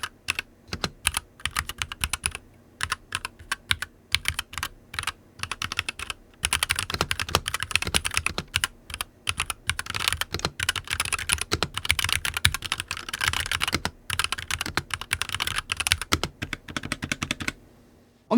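Rapid typing on a Logitech G Pro X 60 mechanical keyboard with dual-shot PBT keycaps, with bursts of clacky keystrokes and short pauses, close up and alone.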